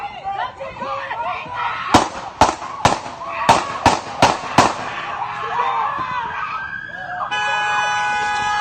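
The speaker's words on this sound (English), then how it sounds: "even the gunfire was overbearing over my headphones" A rapid series of about eight sharp, loud police gunshot cracks rings out over a busy background of voices, followed by a steady high electronic tone.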